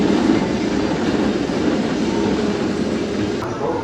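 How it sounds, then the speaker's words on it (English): The Alpengeist B&M inverted roller coaster train rumbles along its track with a dense, continuous roar and rattling, loud and close, with no clear talk. "time for a ride on the world's tallest B&M invert"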